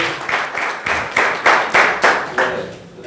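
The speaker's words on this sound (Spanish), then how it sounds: "Dale un aplauso al Señor." A church congregation claps in praise, a run of about eight sharp, rhythmic clap bursts, fairly close and filling the room, fading slightly at the end.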